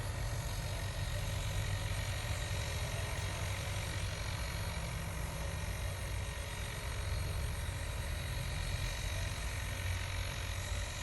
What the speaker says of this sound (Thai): เสียงรถไถ